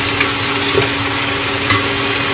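Chicken pieces dropped into a hot pot of simmering liquid give a loud, steady, close sizzle and bubbling that hold through the whole brief stretch, with a couple of small splashes and no voice.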